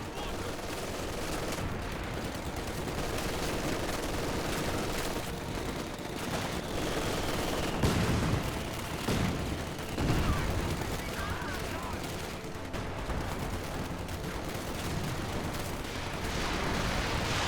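Mortar blasts and gunfire in a Company of Heroes 2 match between Axis and British forces, with a dense, continuous battle din of booms and rattling shots under a commentator's voice.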